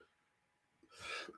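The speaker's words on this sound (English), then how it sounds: "It's a terrible cough" A single short cough, quiet and close, after a near-silent pause.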